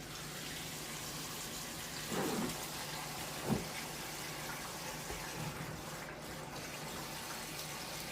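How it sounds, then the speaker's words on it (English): Water from a bubble hash wash drains out through a hose in a steady, even rush of flowing liquid, low and continuous, with a couple of small gurgles. "I think we're ready to go ahead and drain wash 3"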